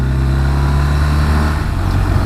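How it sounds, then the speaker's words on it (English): A BMW R1250RT motorcycle's twin engine in its dynamic riding mode runs as a steady, loud, smooth low hum, close by, with wind rush and no talking. "Beautiful note to the engine, it just hums along"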